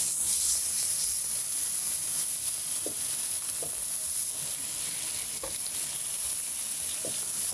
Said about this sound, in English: I'm gonna try to get as much of the outside of this seared up as we can.